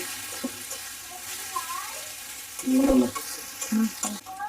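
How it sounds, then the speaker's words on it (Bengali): Tomato paste frying in a pan for Bengali katla fish kalia, a continuous sizzle with stirring and scraping, louder clatter and knocks toward the end, no voices. "এবারে দিয়ে দিব এক চামচ টমেটো বাটা দিয়ে আবারও কিছুক্ষণ কষিয়ে নেব"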